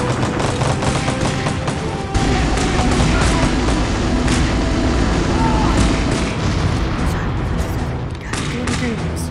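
A gun in a shooting game firing in rapid, continuous bursts, loud and close, with dense rattling shots and thuds that carry on throughout, with a voice mixed in.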